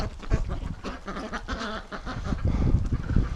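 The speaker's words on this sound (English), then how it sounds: "Oh, ducks." Female breeding ducks in spring quack loudly and repeatedly nearby, with overlapping honking calls in bursts.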